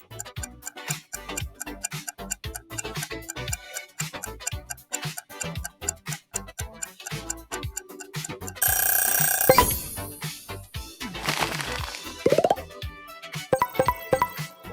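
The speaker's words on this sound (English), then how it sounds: "Which alarm clock shakes you out of bed every morning?" Ticking from an alarm clock runs as a steady, close rhythm, then a brief burst of loud ringing cuts in, followed by more ticking and a short second ring.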